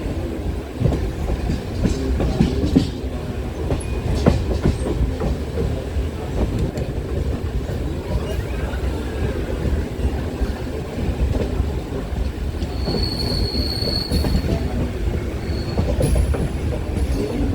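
Passenger train running toward Guldhar railway station, heard from on board: continuous rumbling of wheels on track with faint clickety-clack and occasional high squeals of wheels, steady and moderately loud, with no talking.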